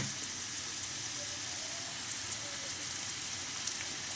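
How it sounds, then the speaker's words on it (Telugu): Onions and green chillies deep frying in a pan of oil, a steady soft sizzling hiss that carries evenly throughout without a break. "ఉల్లిపాయలు, పచ్చిమిరపకాయలు బాగా డీప్ ఫ్రై అయ్యేంత వరకు వేపుకుందాం."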